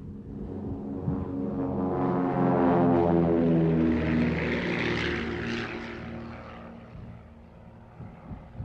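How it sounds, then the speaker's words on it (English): A specially fitted light propeller aircraft drones steadily overhead, its engine swelling loud as it passes close and then fading gradually into the distance, with no voices. "Specially fitted light aircraft can be ready at short notice, whenever conditions appear suitable."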